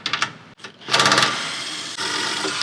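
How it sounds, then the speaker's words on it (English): Nuts being removed from studs on a 2005-or-later Toyota Tacoma frame, likely with an impact or ratchet tool, heard as a rapid mechanical rattling whir in short bursts and then a sustained run, close and fairly loud. "We are gonna take the nuts off and leave the control unit in place."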